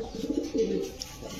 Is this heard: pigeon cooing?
yes